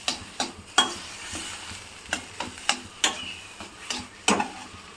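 Fish cutlet filling frying in a wok, a steady sizzle with repeated sharp scrapes and taps of a stirring utensil in an uneven rhythm.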